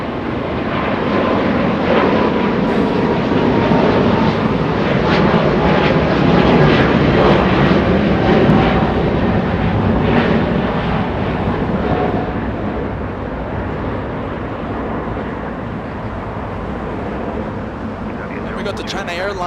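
A Saudia airliner in Formula E livery lifts off from LAX at night, its loud jet roar swelling and then slowly fading, with a voice talking over it throughout.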